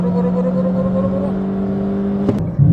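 A close, loud car engine holding a steady high rev at a street drag race between a Peugeot 206 and a Pars XU7P, the drone sustained before a sharp clack and a shift in tone near the end.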